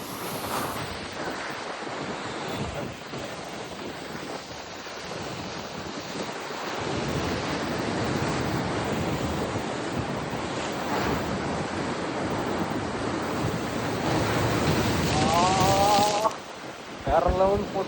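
Rough sea at the Pondicherry shore crashes in a loud, continuous roar of surging waves, with heavy wind buffeting the microphone and people talking briefly toward the end.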